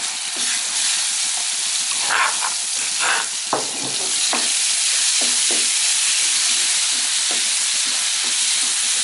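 Shellfish stir-fried Lao style in hot oil that was used for frying salted mackerel, with a loud continuous sizzle, steam hiss and repeated scraping stirs close up.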